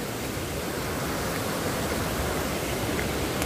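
A river stream crossed on foot flows in a steady, broadband rush of water, close and continuous throughout, with no voices.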